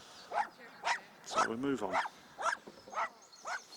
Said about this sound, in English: You might hear the dogs barking in the background